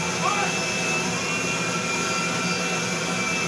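A commercial airliner's jet engine roars steadily in GTA V, a loud, unbroken broadband whine and rumble that lasts the whole stretch.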